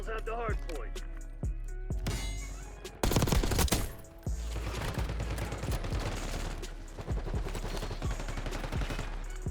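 Rapid bursts of Ames 85 rifle fire in Black Ops 6, sharp automatic volleys repeating across the scene with a loud cluster in the middle, mixed with game effects, while a player talks.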